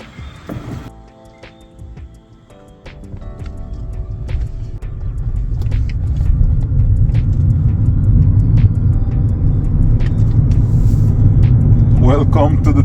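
Low steady road rumble of an electric Mini building as it gets underway and cruises, a smooth engine-free hum with occasional small knocks and a faint whine.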